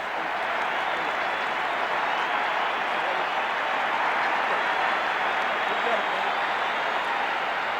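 Steady applause rolls through a ballpark crowd after the ceremonial first pitch at the 1991 World Series, Game 1, Braves at Twins, a dense continuous clapping wash that holds for several seconds.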